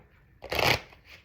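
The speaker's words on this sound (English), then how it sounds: "let's shuffle these cards up" Angel oracle cards are riffled in one quick, close burst of papery flutter lasting under half a second, with no talk.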